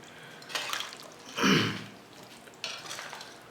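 Chicken macaroni is stirred in a pan, giving a few separate scraping and clinking strokes, with one louder, wetter stir in the middle, fairly close and otherwise quiet.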